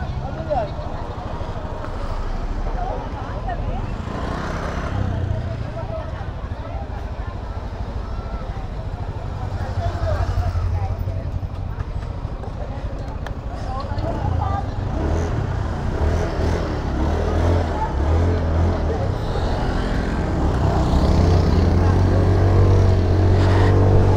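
Traffic heard during a solo motorcycle ride in Baguio, a steady rumble of engines and passing vehicles with wind noise throughout, while a rider talks over it.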